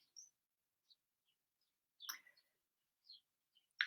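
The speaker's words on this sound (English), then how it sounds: "you may be able to hear the birds outside" Small birds outside chirp faintly in short, sparse high tweets, a few isolated calls spaced across otherwise near-silent quiet.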